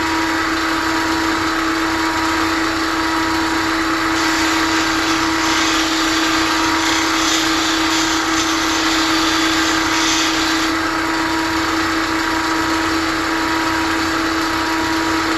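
Close and loud, a bench grinder runs continuously with a steady motor whine as it hollow grinds a skew paring chisel, the grinding noise swelling in the middle.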